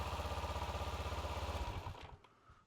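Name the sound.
engine cranked by starter motor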